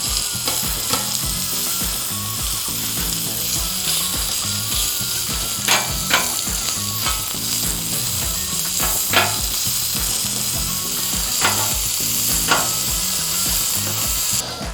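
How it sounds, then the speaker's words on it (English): Bacon sizzles steadily in a hot frying pan, a continuous loud crackle with occasional sharper pops and scraping across the whole stretch, no voices over it. "Love that sizzle."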